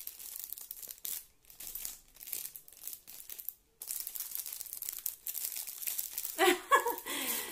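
Close crinkling and crackling of plastic wrap being pulled off a small magnetic eyelash box, in irregular bursts with brief pauses and a louder rustle near the end.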